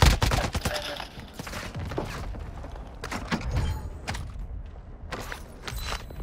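Video game shootout with sharp gunshots in quick irregular volleys, loud at first then scattered shots and thuds, with brief gaps between bursts.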